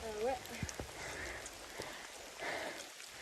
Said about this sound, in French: Commence à bien pleuvoir.